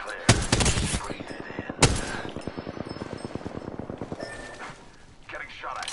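Rapid automatic gunfire in the Apex Legends video game, sharp bursts of repeated shots rattling over several seconds, with a game voice and ambient combat noise beneath.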